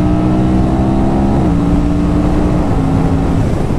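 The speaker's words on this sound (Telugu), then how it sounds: "దీంతో ఇది ఎట్లా వెళ్తుంది బండి, ఇప్పుడు చూడండి, జస్ట్ ఇట్లా పుల్ చేస్తేనే వెళ్ళిపోతుంది బండి" An Aprilia RS 457 motorcycle pulls hard under acceleration, its engine note loud and close with steady harmonics that step up through the rev range, then shift and climb again, with continuous wind roar beneath.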